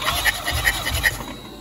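A BMW B48 four-cylinder engine cranks on the starter during a compression test, a rapid rhythmic whirring with regular pulses close by, steady for over a second before easing off.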